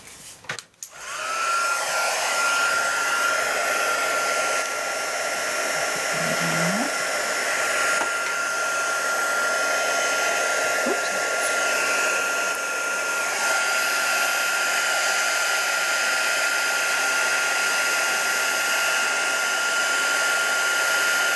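A loud, steady whooshing embossing heat tool runs nonstop at close range with a high whine, heat setting embossing powder on a card, starting after a brief clatter.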